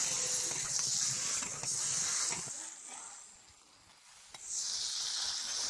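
Wok stir-frying over a rural wood fire, with fish and potatoes cooking in the pan: a steady close sizzle and hiss that dips briefly midway, then surges back loud.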